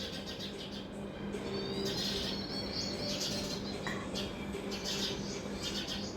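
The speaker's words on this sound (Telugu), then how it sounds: "10 పిట్టలు ఉన్నాయి." Several small birds chirp and tweet around a tree outdoors, faint scattered calls over a steady background hum, with no talk.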